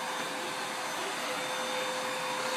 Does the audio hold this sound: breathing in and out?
no